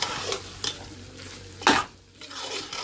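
Mince meat cooking with green coriander and green chilies in a pot gets stirred, giving scraping spoon strokes and a soft sizzle, with one louder clatter midway, close and unaccompanied by speech.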